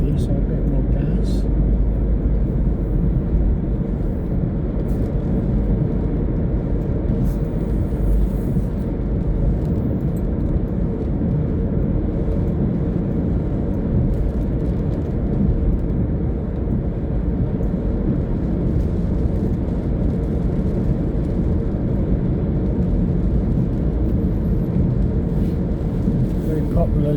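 Car engine rising in revs as the driver speeds up from 30 to 40 on a driving-lesson test route, a steady low rumble of road and engine noise running throughout under continuous instructor speech.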